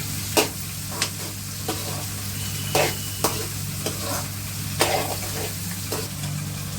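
Onions frying in a pan sizzle steadily, with a spoon stirring and scraping at irregular intervals, close and moderately loud with no talk.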